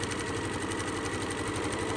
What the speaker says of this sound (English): Lay that one right sides together and sew that one down.